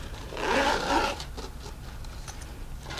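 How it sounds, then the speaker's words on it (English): A clothing zipper being pulled open, a rough rasping burst of about one second, close and fairly quiet, followed by faint handling sounds. "I'm going to open up my zipper"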